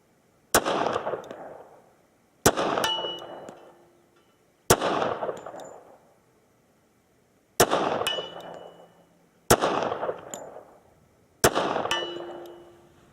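Six sharp pistol shots from a Wilson Combat 1911 in .45 ACP, spaced a couple of seconds apart, each a loud crack ringing out with a metallic clang and decaying echo.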